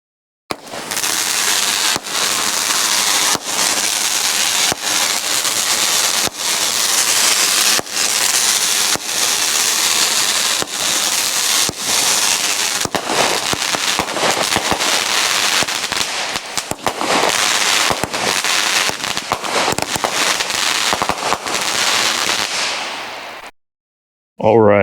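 A Black Cat Night Attack 200-gram firework cake goes off at a night display: a long, very loud run of sharp cracking explosions with a crackling fizz between the bangs, lasting over twenty seconds before cutting off abruptly.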